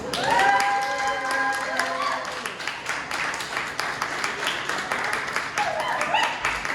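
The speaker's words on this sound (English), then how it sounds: "I want everyone to give a big round of applause and a warm welcome to Leah Tamara" An audience applauds and claps to welcome performer Leah Tamara on stage, a moderate round of clapping that thins out into scattered claps while a voice talks over it at the start and again near the end.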